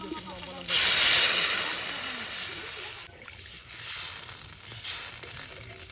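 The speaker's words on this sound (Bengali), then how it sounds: "আলু বেগুন কষানো হয়ে গেছে, এবারে জল দিয়ে দেবো।" Water poured into a hot pan of fried potatoes and eggplant gives a sudden loud sizzling hiss. The hiss slowly fades, then drops sharply and carries on as a softer steady simmer.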